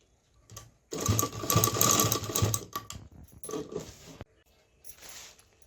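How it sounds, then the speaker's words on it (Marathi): Sewing machine stitching a polythene holder together, a close burst of rapid whirring stitches followed by a few shorter, softer runs and small clicks. "हे बघा, तर असे शिलाई करून घेते"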